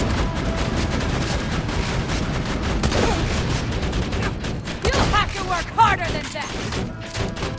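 Dense rapid gunfire and booming explosions from a Borderlands 2 raid battle rattle continuously in close bursts, with voices speaking over the fighting.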